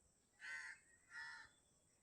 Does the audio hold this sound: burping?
no